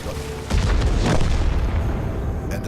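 Tank cannon fire in World of Tanks, with a deep booming blast that hits suddenly and rolls on as a dense, sustained rumble of explosion and battle noise, loud and close.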